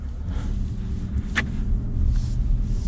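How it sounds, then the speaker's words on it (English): Low, steady engine rumble from a 2022 Ford F-150 with the V8 engine while driving, heard from inside the cab as a continuous deep drone with a brief faint click. "There is a little bit more of a rumble to the engine."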